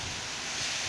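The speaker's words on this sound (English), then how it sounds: "The gusts are getting stronger." Strong wind during Hurricane Dorian in Halifax, a loud, steady broadband roar buffeting the microphone for a brief moment, with no voices.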